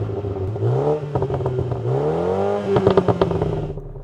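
A hot hatchback engine revs up and down in close, loud swells across the whole stretch, with rising and falling pitch and some crackle near the end; no one speaks.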